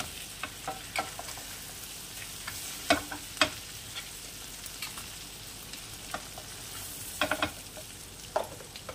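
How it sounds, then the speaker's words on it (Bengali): Ground spices fry alongside katla fish in a pan, making a constant quiet sizzle. Sharp scrapes and taps from stirring come through at uneven intervals. "মাছের সাথেই কিন্তু এগুলো ভাজা হতে থাকবে মশলাগুলো।"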